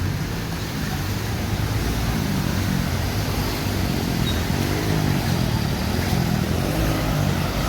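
A motorcycle engine runs steadily on a rain-flooded street in Rajkot, a constant broadband rumble with a low throb that stays at one loud level throughout, with no voices.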